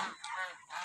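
A goose on a rural farm in the Philippine provinces gives three short, fairly faint honks in under a second, heard alone at moderate distance.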